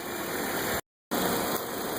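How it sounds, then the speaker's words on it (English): A 2010 Toyota Corolla engine idles with a steady broadband hum and whine, cut by a brief dropout of silence before it resumes, no voices. "we've got the vehicle running"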